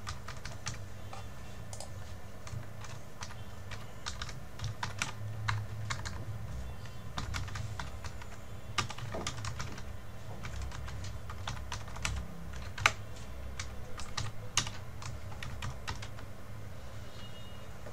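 Steady typing on a computer keyboard while an email is drafted in Outlook, a continuous run of close, crisp key clicks with occasional louder strokes, no talking.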